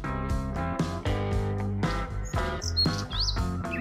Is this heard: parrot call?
yes